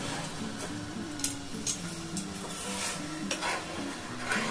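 Fish curry sauce with two green chilies simmers in a pan, its steady bubbling and sizzling soft and close. A spoon stirs it now and then, with light scrapes and clinks against the pot.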